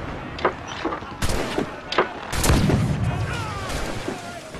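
Cannon fire during a naval boarding battle in Assassin's Creed IV, several sharp booming blasts in quick irregular succession with rumbling tails, mixed with battle noise.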